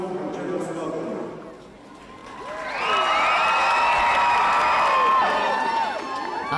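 A fervent crowd cheers and shouts for the Duchess Kate in Canada, a sustained roar of voices and whoops swelling loudly after a brief lull, with children's shrill calls among the adults.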